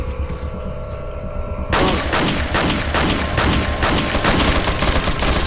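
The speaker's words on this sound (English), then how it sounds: "there's apparently a fucking machine gun in this fucking ancient Castilian castle" Machine gun fire in the video game Resident Evil 4, inside an ancient Castilian castle: after a quiet humming stretch, loud rapid bursts of automatic shots hammer in a steady rhythm for several seconds, with no talk.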